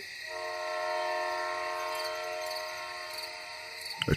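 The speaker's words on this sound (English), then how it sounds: "A train's coming." An approaching train sounds a long, steady horn chord that holds for several seconds over a low rumble, ending with a few clacks at the close.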